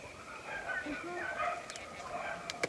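Dogs bark and yip faintly in the distance behind a man's nearby speech, with a few sharp clicks near the end.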